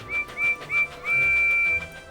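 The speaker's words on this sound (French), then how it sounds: "Il siffle très fort et fonce à fond les wagons vers l'oiseau." Cartoon steam engine whistle from Thomas & Friends, sounding several short sharp toots followed by one long shrill blast. It is loud and close, with no voices alongside.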